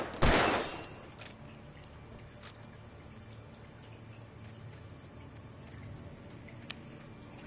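Gunshot in the video game Alan Wake: one loud, sharp blast at the start with a short decay, then a quiet stretch of low ambient noise and a few faint clicks.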